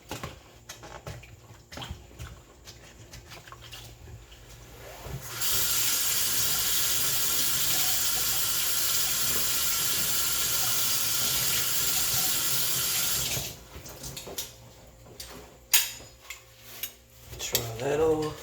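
A kitchen tap runs in one loud, steady stream for about eight seconds while dishes are rinsed, with clinks of dishes and pots before and after and a few faint voices.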